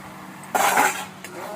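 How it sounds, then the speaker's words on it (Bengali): Jackfruit pieces tipped into hot spiced oil in a pan sizzle up loudly and briefly, then ease off, with a second short burst as the mixture is stirred. "এবার এঁচড়টা দিয়ে ভালো করে কষাতে হবে।"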